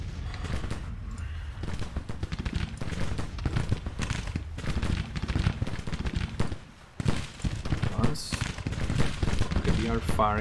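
Civil War musket fire in Grand Tactician crackles in dense, ragged volleys of many overlapping shots, sustained and fairly loud, with speech heard now and then above the din.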